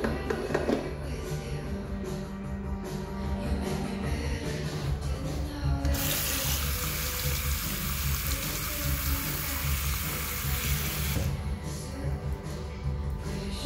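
A JD Macdonald Autobeam MK2 sensor tap in a KFC restroom starts running, a steady close hiss of water pouring into the sink for several seconds before it cuts off.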